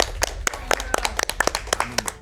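An audience claps for a cat character in the game In Sound Mind, giving a short burst of irregular, fairly loud hand claps with no voices.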